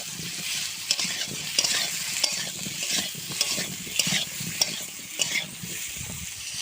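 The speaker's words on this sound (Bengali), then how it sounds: "সুন্দর করে আস্তে আস্তে আলু আর কলাটা ভাজবো।" Potatoes and plantain frying together in oil with salt and turmeric, stirred steadily: a continuous close sizzle with repeated scraping and stirring clicks, no talking.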